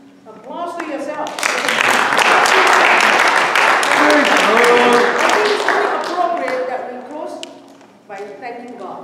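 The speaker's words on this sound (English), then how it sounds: "Applause for yourself." Crowd applause at a badminton sports award ceremony, sustained clapping that swells and fades over several seconds, mixed with voices speaking over and around it in a hall.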